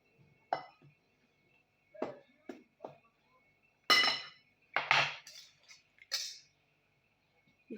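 Crêpe batter being whisked after eggs are cracked into the flour, heard as intermittent clinks and scrapes of a utensil against a bowl, separated by quiet pauses.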